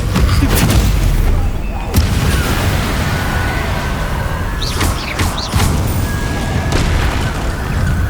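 Incendio fire spell blasts in Hogwarts Legacy, several loud booming bursts with whooshing crackle, mixed with game effects and a voice calling out the spell.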